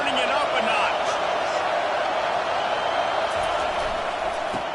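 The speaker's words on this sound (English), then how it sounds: "this crowd is turning it up a notch." Stadium crowd roar swells in a college football video game during a Florida State timeout and 2nd down, a dense, steady wash of noise running under play-by-play commentary.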